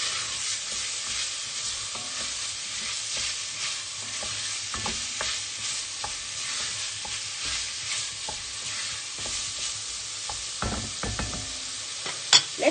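Lasagne sauce stirred in a sizzling pan, a continuous frying hiss with scraping spoon strokes and a few louder knocks near the end.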